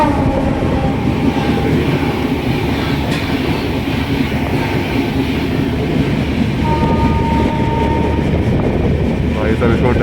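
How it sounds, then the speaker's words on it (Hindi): A Lucknow–New Delhi AC Superfast express runs at speed through heavy fog, giving a steady, loud, continuous rumble with rail clatter throughout and a brief horn-like tone near the end. "इसमें ट्रेन की स्पीड अच्छी खासी है लगभग"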